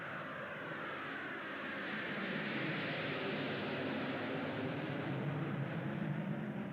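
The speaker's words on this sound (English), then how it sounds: "What are Russian jets doing here?" Jet planes roar steadily overhead in a film scene, a broad, continuous engine rush that swells slightly and holds loud for several seconds, with no talk.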